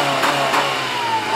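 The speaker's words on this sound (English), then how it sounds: "give it a couple revs with the stock system, stock exhaust" A Honda car engine on its stock exhaust is revved a couple of times, loud and close, with a steady mid-pitched drone and two quick rises in pitch.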